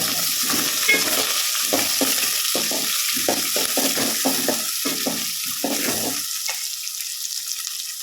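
Onions and dried red chillies frying in a pan with mustard seeds: a constant sizzle under rhythmic scraping strokes of a spoon that stop near the end, leaving only the hiss.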